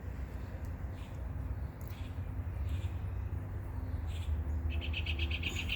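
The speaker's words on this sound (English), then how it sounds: "listen to those birds. They sound so beautiful." Birds chirping outdoors in summer, faint scattered calls over a steady low background hum, no talking.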